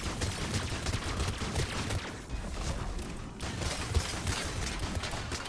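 A Scorpion gun fires in the Mass Effect 3 video game against a dense, continuous wash of loud gunfire and mechanical battle noise, with brief clattering bursts and no talk.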